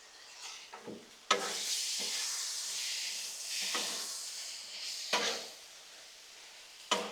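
Beef with its marinade dumped onto a Blackstone griddle, hissing into a steady sizzle, with several sharp spatula scrapes and knocks punctuating a quiet, continuous steam hiss.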